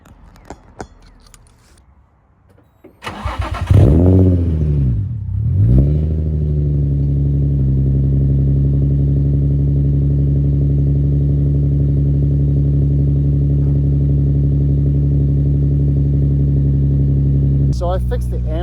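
An Infiniti G35 with a VQ35DE V6 and a single-exit straight pipe exhaust cranks and fires up, gives a short rev, then settles into a loud, steady, raspy idle close to the microphone.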